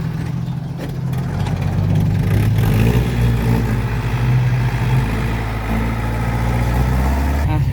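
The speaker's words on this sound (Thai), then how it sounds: "อันนี้ก็งานหนักของรถไถหน่อย" A heavy tractor engine drones steadily at close range while plowing wet, slippery soil, its low rumble rising and straining under load throughout.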